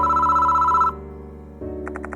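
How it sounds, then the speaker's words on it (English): A telephone rings in the horror game Spirit Hunter Death Mark II, breaking in as four quick, evenly spaced electronic trills over low, droning game music after an earlier melodic passage fades. "Why is the phone ringing now?"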